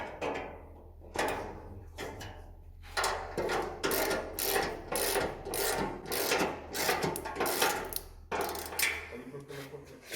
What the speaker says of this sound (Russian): Устанавливаем шайбочки и закручиваем гаечки